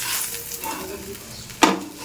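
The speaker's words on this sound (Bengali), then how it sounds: "এখানে আলু পেঁয়াজ ভাজছি কাঁচা লঙ্কা দিয়ে" Potato and onion frying with green chili in a pan, a soft crackling sizzle with gentle stirring, then a single sharp clatter of a utensil against the pan near the end.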